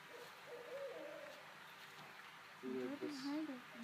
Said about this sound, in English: the second owl we heard was at ground level, and it was different.